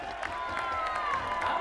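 Huge grandstand crowd cheering and clapping at an elite men's triathlon finish in London, a steady dense roar with a voice talking over it.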